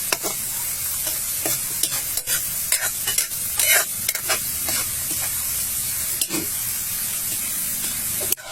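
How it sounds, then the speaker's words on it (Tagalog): Oregano leaves stirred in boiling cooking oil for a mosquito-repellent infusion: a bright, continuous sizzling hiss with irregular bursts of spattering and the repeated scrape of a spoon, close and fairly loud. "Patuloy lang po itong haluin sa kumukulong mantika sa loob ng 10 to 15 minutes."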